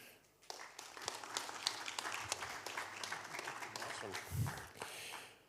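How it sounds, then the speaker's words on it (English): An audience gives a round of applause to a speaker at a live-streamed technical talk, a steady clatter of clapping that swells, lasts several seconds and then tapers off. "We have a round of applause, please."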